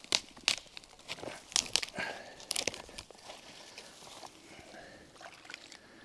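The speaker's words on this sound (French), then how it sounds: "Maintenant, on va s'en remettre une coupe de branches secs." Dry branches laid over a beaver trap outdoors in Québec, giving close, uneven crackles and snapping rustles in scattered bursts that thin out toward the end.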